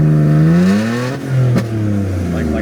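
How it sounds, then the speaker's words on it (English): A car engine idling on its own, then its revs climbing unprompted in a rising harmonic whine, dipping briefly before settling into a steady higher drone, close and loud. "So it'll hold for a little bit, but then eventually it'll climb the RPMs."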